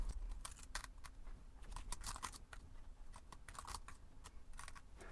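Quiet, irregular clicking of a computer keyboard as someone types in short bursts during a coding session, with no talking.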